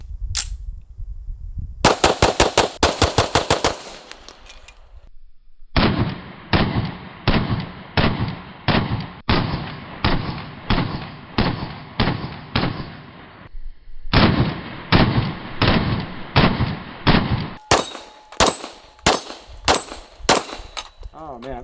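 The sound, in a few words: pistol gunshots at shooting range, Springfield 1911 and Staccato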